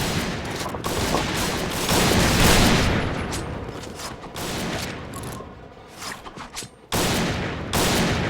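Gunfire in the first-person shooter game Point Blank, with dense bursts of rapid shots and sniper fire forming loud continuous fusillades, broken by short pauses between volleys.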